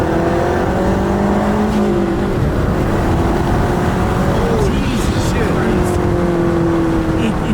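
A turbocharged Mazdaspeed 3 hatchback engine accelerating hard at full throttle from inside the cabin, loud and continuous, with a voice speaking briefly over it.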